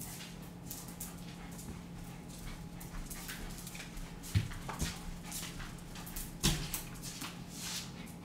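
A dog pants softly and whimpers close by over a constant low hum, with a couple of sharp knocks or thuds standing out.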